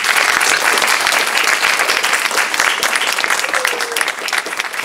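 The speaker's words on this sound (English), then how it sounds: "let's have a round of applause for Mr." An audience claps at a book presentation and reading in a university library, dense, even applause sustained for about five seconds with no talking over it, easing slightly at the end.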